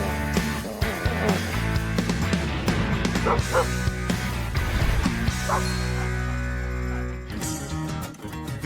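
Troublesome household dogs bark and yip repeatedly, close and loud, with some whimpering between the barks in a cluttered home.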